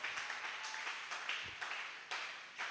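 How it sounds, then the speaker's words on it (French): A church congregation claps in a sustained round of applause for the king of kings, many hands clapping in uneven swells across the room, fairly distant and continuous. "Acclame d'abord très fortement pour le roi des rois"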